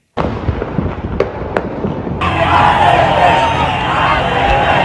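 A few sharp firecracker cracks and pops over a steady roar of distant crowd noise, swelling into a denser, louder wash of bangs and cheering, as Bengaluru celebrates RCB's IPL 2025 championship.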